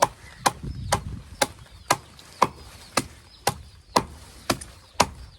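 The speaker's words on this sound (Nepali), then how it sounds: "अब अलिकति चाहिँ काटेर दिनु पर्यो बाख्रालाई होइन।" Fodder is chopped to feed goats, sharp blade strikes landing one after another in a steady rhythm, about ten chops over several seconds, close and distinct with no speech.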